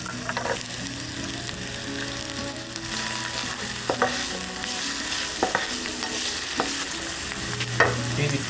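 Chopped onions sizzle steadily in hot olive oil in a pan, a loud continuous frying hiss broken by occasional scrapes and stirring clatters.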